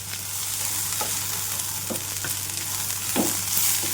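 Ground coriander and dried coconut powder frying in a pan while being turned back and forth, a steady close sizzle with a few soft scraping stir strokes and a low hum underneath.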